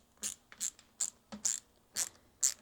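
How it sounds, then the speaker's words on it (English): Six or seven short, evenly spaced clicking ratchet strokes as a bottom screw is tightened on a motorcycle speaker mount, crisp and close but quiet, with brief gaps between turns. "And now we tighten up the bottom screw."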